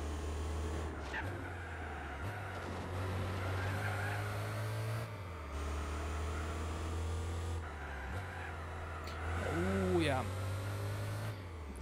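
Racing car in Gran Turismo 4, the video game: a steady engine drone rises and drops as gears shift, with a brief tire squeal, while someone talks over it.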